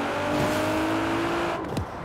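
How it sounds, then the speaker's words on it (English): A car engine in the Forza Horizon 4 racing game holds a steady running note, then drops sharply toward idle as the clutch goes in, near and loud with no talk. "See, clutch in. Hear how the engine turns off?"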